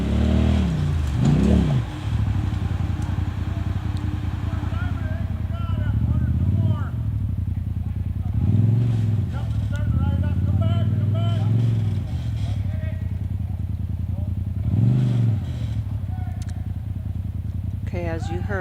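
A Polaris RZR 1000 XP Turbo side-by-side revs hard in repeated surges while pulling a stuck Toyota pickup free, the loud engine droning steadily with rising bursts and a voice briefly audible over it.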